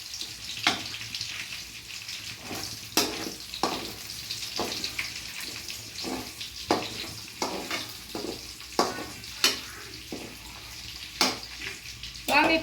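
Vegetables and carrots frying in hot oil for paneer butter masala, a steady crackling sizzle broken by repeated sharp scraping stirs of a spoon against the pan, close by.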